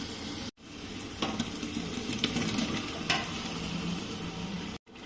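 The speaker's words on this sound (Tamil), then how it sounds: "இப்போ தக்காளி வதங்கிருச்சு" Chopped tomatoes sauté in hot oil in a pot for vegetable biryani, giving a continuous close sizzle with scattered scrapes and clinks of stirring. Two short gaps break the sound.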